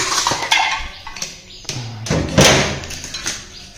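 Dishes and pots being handled in a home kitchen, with a series of sharp clatters, knocks and clinks close by, some louder bangs among them and no talk.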